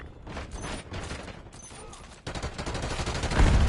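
Gunfire in Call of Duty Black Ops 6, a close fusillade of rapid shots and mechanical clatter that grows louder and denser toward the end, with some faint voices.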